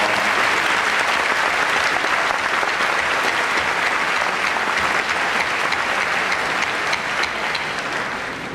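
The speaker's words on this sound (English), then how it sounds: "give me a round of applause" A graduation audience applauds steadily and loudly throughout, a dense wash of many hands clapping with no talk.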